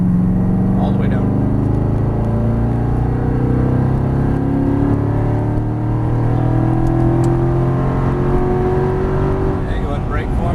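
A Chevrolet C7 Corvette Stingray accelerates hard on a Las Vegas race track, its engine roaring loud and close with rising harmonic sweeps as it climbs through the revs, a voice talking over the steady drone.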